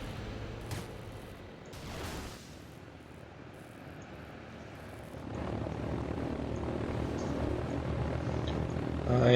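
An airlifter aircraft arriving over a battlefield in the strategy game Rise of the Reds, a steady propeller-engine drone swelling from quiet to loud, with a couple of faint distant thuds early on.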